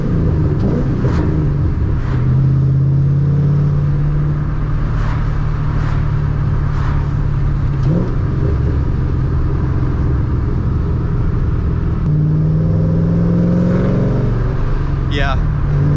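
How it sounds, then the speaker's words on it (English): A Mustang engine with its intake restrictor removed rumbles and revs repeatedly with a loud, close intake roar, while people talk over it. "I hear the intake."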